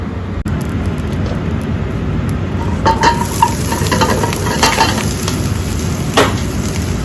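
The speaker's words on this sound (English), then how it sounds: "we're just gonna add that to the pan, saute that around a little bit" Carrots sauteing in a hot seasoned wok give a steady, close sizzle with scraping and stirring clatter of the vegetables tossed across the pan, no talking.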